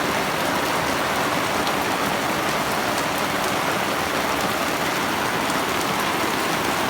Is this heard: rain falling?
yes